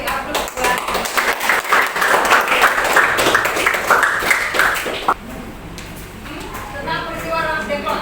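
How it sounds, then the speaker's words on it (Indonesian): Classroom applause for students: a crowd claps steadily and loudly for about five seconds, then stops, leaving quieter room sound with faint voices. "Beri aplaus buat"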